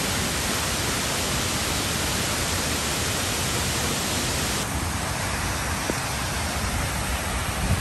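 Dense, steady rush of water at Guide Falls in Tasmania, a broad roar close by that fills the whole clip, softening slightly partway through with no voices.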